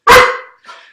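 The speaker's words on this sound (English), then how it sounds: "Dakota the studio dog is very excited." A studio dog lets out one loud, close bark followed by a shorter, softer yip, with no talking over it.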